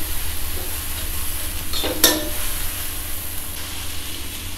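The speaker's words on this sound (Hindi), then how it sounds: "अब इनको अच्छे से मिक्स कर लेंगे" Spices including red chilli powder, coriander powder, chaat masala and turmeric are mixed on a hot tawa, a steady close sizzle with a single brief scrape of the spatula midway and no speech.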